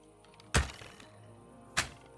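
Two sharp, solid thunks of crossbow bolts striking a target in Kingdom Come Deliverance 2, spaced just over a second apart, each a close percussive hit over a quiet background.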